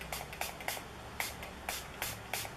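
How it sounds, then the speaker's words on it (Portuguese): Makeup brush cleaning spray is pumped straight onto the bristles of a powder brush in a series of sharp, close misting spritzes with an irregular rhythm, and no voice is heard. "Eu posso aplicar diretamente nas cerdas o spray assim"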